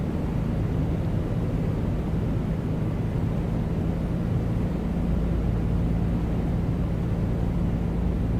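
A2A Comanche 250 piston engine in Microsoft Flight Simulator 2024, a steady, loud droning hum with a constant low tone, heard in the cockpit during approach and slowing with no speech.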